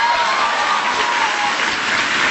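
Sustained applause from a conference audience greeting Ron Paul at CPAC 2009, a dense, even wash of clapping that holds steady and loud for the whole stretch with no talking.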